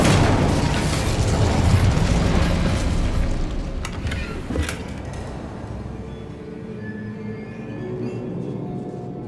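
A fire spell cast in Hogwarts Legacy, a loud roaring burst of flame with a boomy low rumble, then a couple of sharp crackling pops, fading into a softer sustained hiss.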